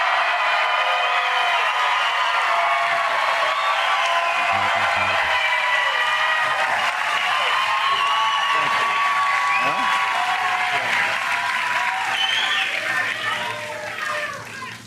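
A large rally crowd claps in sustained, dense applause that stays loud and steady for the full stretch, mixed with cheering voices, tapering slightly at the end.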